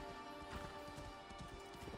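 Horse hooves thudding in Assassin's Creed Valhalla gameplay, a quick rhythmic clip-clop under a constant musical bed, fairly faint.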